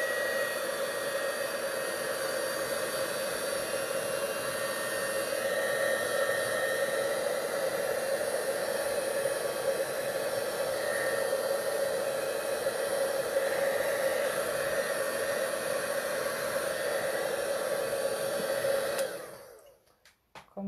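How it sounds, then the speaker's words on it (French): Heat gun blowing hot air to dry a stamped craft card background: a steady, loud, even whoosh of fan and air that runs unbroken for about nineteen seconds, then cuts off abruptly. "utiliser notre pistolet chauffant pour le sécher un petit peu"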